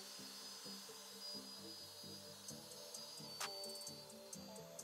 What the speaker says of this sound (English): making a pass with a router, and starting all over at the next line